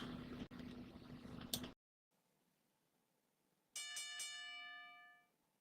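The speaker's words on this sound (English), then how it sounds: "And there's the bell." Several quick rings of a bell start a wrestling match, a bright clanging burst that follows a loud stretch and a short silence, then decays over about a second.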